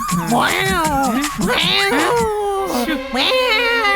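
A person mimics a cat in a comic Malayalam-dubbed scene, producing a series of drawn-out, wavering meows, three or four in a row, loud and close, with no other talk over them.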